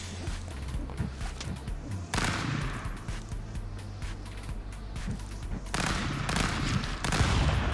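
Video game gunfire from Stick Fight, loud continuous bursts of shots and impacts that rise in intensity as rounds continue, with no pause between volleys.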